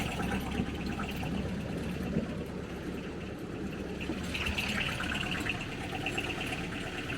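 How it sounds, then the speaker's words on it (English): A Sherp amphibious vehicle idles out on a frozen lake in the cold, heard from inside the cabin as a steady, low engine rumble with a faint buzzing drone, even and unbroken throughout. "Got the Sherp running just to keep it nice and warm in here."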